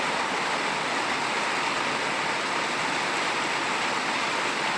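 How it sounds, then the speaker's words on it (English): Heavy rain pours steadily outside a greenhouse, a dense, continuous broadband hiss with no breaks, fairly loud and close, with no voices over it. "dude, it has been pouring for hours."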